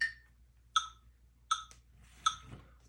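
Soundbrenner metronome app clicking at 80 BPM, four evenly spaced bright pinging ticks, the first higher in pitch, fairly quiet and alone.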